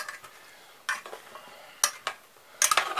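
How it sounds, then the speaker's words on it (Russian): A spoon scrapes and clinks against a bowl while stirring an oil-dressed cucumber salad in a few separate bursts, close and fairly quiet, with no talking. "И ложкой перемешаем, потому что масло все-таки."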